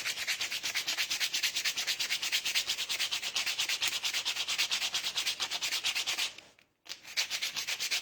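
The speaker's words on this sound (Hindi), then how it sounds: "ऐसे सैंड पेपर में रबिंग करेंगे, रब करेंगे इसको" A clay sculpting tool rubbed on sandpaper to sharpen its corner gives a fast, continuous scratchy rasp of rapid short strokes, close and loud, breaking off for a moment near the end before starting again.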